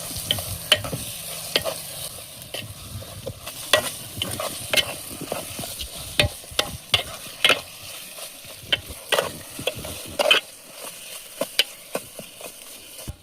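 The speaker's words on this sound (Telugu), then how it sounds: "ఈ వేగుతూ ఉండగా మళ్ళీ కలుపుకోవాలి." Tamarind curry masala fries in a pan with chili powder and salt while a spoon stirs it: a steady sizzling hiss is broken by frequent scraping, clacking strokes, fairly close and with no voices.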